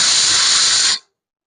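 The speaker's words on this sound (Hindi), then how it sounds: "देखो सीटी भी आ गई" A kitchen pressure cooker whistle lets off a loud, steady hiss of escaping steam for about a second, then stops abruptly into silence.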